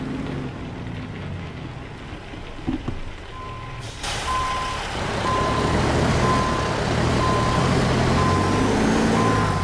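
A heavy truck hauling a transformer in American Truck Simulator gives a steady reversing beep in a regular pulse over a loud, low engine rumble, with an air-brake hiss near the start.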